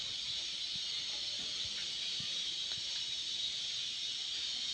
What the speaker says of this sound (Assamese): চুজি একাপ ধুনীয়াকৈ মই ব্ৰাউন কালাৰ অলপ অহালৈকে মই ধুনীয়াকৈ ভাজি ল'ম।